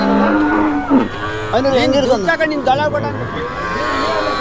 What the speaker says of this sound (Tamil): இந்த பக்கமும் எல்லாம் மாடுங்கள்லாம் வந்து கட்டி வச்சுருக்காங்க பாருங்கள்